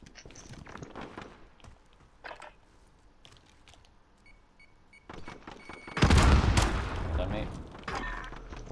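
Pistol gunfire and other weapons crack during a Sons of Anarchy gunfight in a video game, with scattered shots and footsteps and then a loud burst of firing, while voices talk intermittently.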